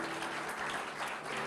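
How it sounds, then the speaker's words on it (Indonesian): Church congregation applauding during a sermon about worry, with steady, dense clapping from many hands filling the room and no speech on top. "Kasih tepuk tangan buat Tuhan kita."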